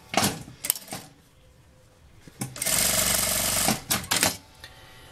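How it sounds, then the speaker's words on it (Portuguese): A sewing machine stitches a seam beside a zipper in a short burst of rapid mechanical whirring, with handling clicks and rustles before and after. "prefiro costurar do lado do zíper aqui"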